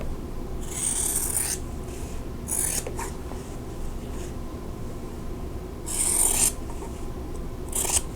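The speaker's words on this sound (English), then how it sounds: "let me trim these corners off" Corners being trimmed off quilt-block fabric, four short rasping cutting bursts spaced a few seconds apart over a steady low room hum, close by and with no voices.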